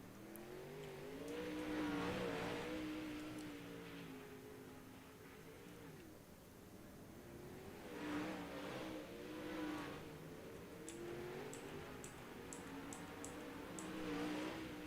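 360 sprint cars rumble onto a dirt racetrack at Limaland, engines revving and droning as they pass at a middle distance, rising and falling in waves with a few sharp high ticks near the end.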